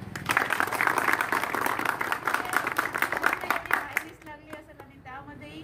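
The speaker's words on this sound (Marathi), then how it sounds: "पहिल्यांदा यांच्यासाठी टाळ्या वाजवा" Applause rises for Pavan Jadhav at a Republic Day village felicitation after his selection as a talathi, steady dense clapping for about four seconds before tapering off as a voice begins speaking.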